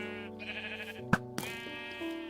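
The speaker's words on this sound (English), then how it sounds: "if I go over here and I shoot this sheep" In Minecraft, a sheep shot with an arrow bleats in a clear, wavering cry, with a short thud of the hit partway through and no talk.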